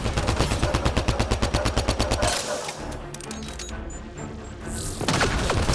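Rapid automatic gunfire from a gun in Mass Effect Andromeda, a loud, evenly spaced burst of about two dozen shots that stops abruptly, followed by quieter game sounds and a fresh burst of shots at the end.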